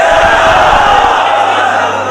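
Large crowd roaring a religious slogan in unison at a rally, a loud, massed chorus of voices that swells together and holds as one sustained cry.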